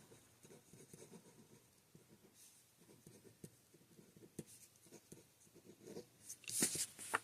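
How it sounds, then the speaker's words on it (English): A pen scratches across a card in short, steady strokes, faint and close, with a quiet rustle building toward the end. "Let's write on that one because you can't really see it in the blue."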